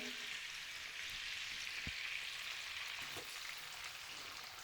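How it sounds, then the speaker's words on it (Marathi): Onion with green chillies sizzles in a pan, a steady, fairly quiet frying hiss throughout with a faint clink or stir partway through. "आता कांदा घालून घेऊया"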